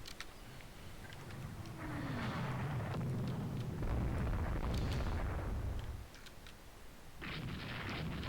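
Heavy 17-inch naval shell fire and hits in the naval strategy game Rule the Waves 2: loud, rumbling low booms roll across the clip in long, sustained bursts, with a brief dip before the barrage swells again.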